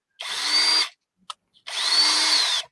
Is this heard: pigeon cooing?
no